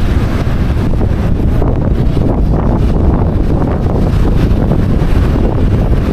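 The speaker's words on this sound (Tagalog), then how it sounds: "Karamdam talaga natin dito mga tol yung lakas ng hangin." Strong wind roars and buffets the microphone continuously at the Bangui wind farm in Ilocos Norte, Philippines, a loud, rumbling gust with no letup.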